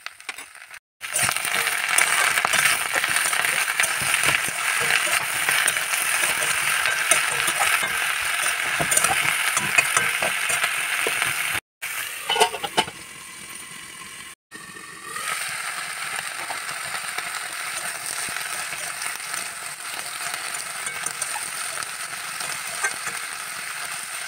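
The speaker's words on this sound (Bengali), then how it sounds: "এবার তেলটা ভালো গরম হয়ে গেলে এর মধ্যে এই ফুলকপির ডাঁটা, পেঁয়াজ, রসুন এবং কাঁচা লঙ্কা সবগুলো এর মধ্যে দিয়ে দেবো।" Cauliflower stalks, onion, garlic and green chilli fry in hot oil with a loud, steady sizzle. Stirring scrapes and clatters now and then, and after a brief break the frying drops a little quieter.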